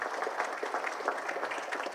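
An audience at the Somerville Heroes' Salute ceremony clapping, a brief steady burst of many hands applauding at moderate volume with no talk over it.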